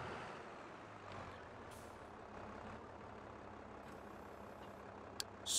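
In the farming game Farming Simulator 22, a truck rolls with a low engine hum and brakes, ending in a sharp hiss of air brakes, faint and steady, with no talking.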